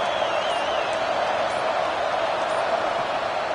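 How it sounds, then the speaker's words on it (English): Stadium crowd at a Texas vs Texas Tech college football game, a broad steady roar of cheering that holds at a constant level throughout. "Guns up, and so is the noise. The crowd electric"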